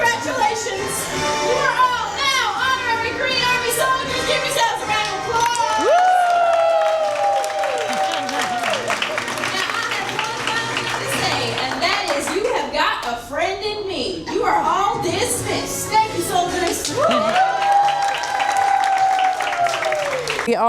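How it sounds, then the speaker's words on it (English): Applause from a group of children and adults aboard a Disney cruise, clapping and cheering mixed with excited kids' voices and music, continuous and lively, with talk running over it. "Give yourselves a round of applause."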